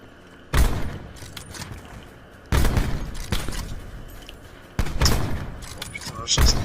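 Sniper rifle shots in a Black Ops shooter game ring out as four loud, sharp blasts spaced roughly two seconds apart, each trailing off into a short echo.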